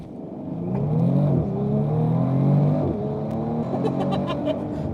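A Bentley Flying Spur Speed with its W12 engine accelerating hard on launch control, a loud, steady engine roar that rises and shifts in pitch through the gears, close by and without talk.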